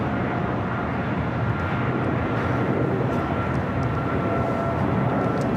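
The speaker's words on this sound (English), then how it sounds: "The Korean Air Cargo 777 freighter taking off on the south side, 25 left." A Korean Air Cargo Boeing 777 freighter takes off from LAX's south-side runway 25L, its engines a loud, steady broadband roar that holds constant throughout without pause.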